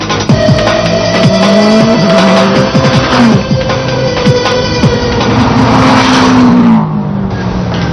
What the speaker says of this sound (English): The car is put through its paces to ensure everything is working perfectly before it's shipped.